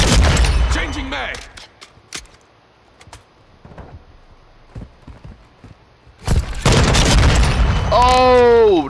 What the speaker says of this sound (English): Oh, the bitch threw out a landmine and killed my ass.